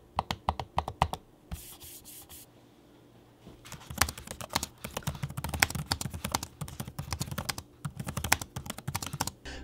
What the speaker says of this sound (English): the click on the MacBook Pro is actually a vibration click rather than actual manual click like on the HP Envy